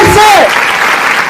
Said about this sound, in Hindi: उस शब्द के लिए ताली बजाओ